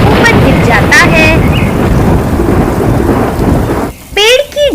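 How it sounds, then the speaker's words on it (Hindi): A loud thunder crack rumbles through heavy rain in a cartoon storm, a dense crashing roar that dominates, with brief bird chirps and a voice cutting in near the start and end. "बहुत तेज बिजली कड़कती है"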